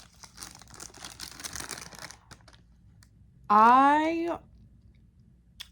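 Crinkling and crunching of saltine crackers being handled and chewed up close, soft and intermittent, followed by a brief voiced sound.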